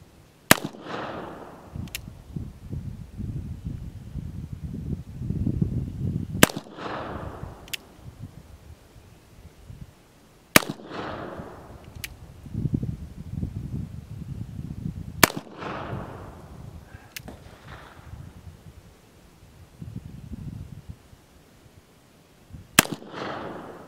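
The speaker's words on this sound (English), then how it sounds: "We're going to shoot 19 grains and 20 grains with round ball." An 1851 Colt revolver fires round balls over 19 to 20 grains of black powder. Five sharp, loud outdoor shots come several seconds apart, each followed by an echoing tail and rustling handling noise between shots.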